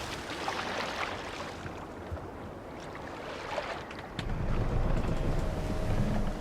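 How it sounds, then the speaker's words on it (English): Steady wind rushes past a longship under sail in Assassin's Creed Valhalla, a breathy roar over the sea that swells louder and deeper partway through. "Good sailing wind here, Eivor."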